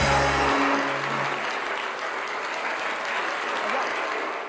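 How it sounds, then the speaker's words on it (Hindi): A late-night talk show studio audience breaks into loud, dense applause after a brief musical sting, the clapping holding steady for several seconds. "तालियां"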